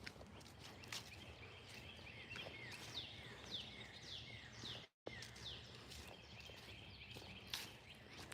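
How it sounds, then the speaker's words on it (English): Birds chirping outdoors in the morning, repeated short tweets and calls at moderate distance over soft ambient noise and occasional footstep-like rustles, with a brief dropout midway. "Do you hear all those birds?"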